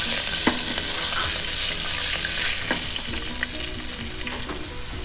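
Red chilies and curry leaves fry in hot oil in a pan, a loud, steady sizzle and crackle with occasional sharp pops throughout.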